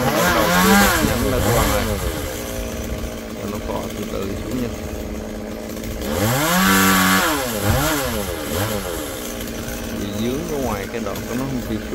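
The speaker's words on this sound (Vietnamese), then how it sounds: "Cưa đang kéo nó xuống rồi" A chainsaw engine revs up and down repeatedly, loud and close, cutting a high branch off a huge kapok tree in surging bursts, with people talking over it at times.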